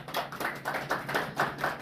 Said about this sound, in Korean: 박수 쳐드리세요